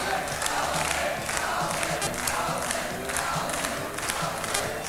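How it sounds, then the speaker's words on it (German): A crowd cheers and roars steadily, a dense wash of many voices with rising bursts of shouting throughout. "Ja, der Jubel brandet auf."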